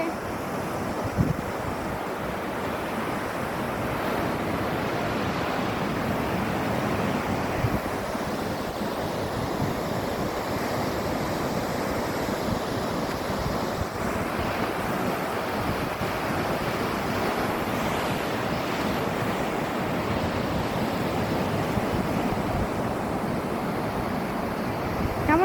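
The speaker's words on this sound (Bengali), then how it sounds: "এই যো সমুদ্রের ঢেউ" Sea waves rolling onto the shore at a beach, a continuous broad wash of surf mixed with wind buffeting the microphone, loud and steady throughout with no clear separate breaks.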